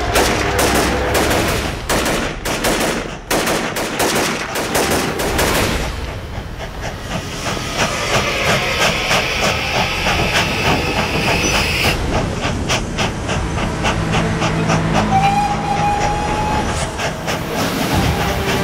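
A train with railway carriages in a historical drama set in colonial India, loud rhythmic clattering and hissing steam at first, then a sustained rumbling roll and a brief whistle-like tone, with no speech.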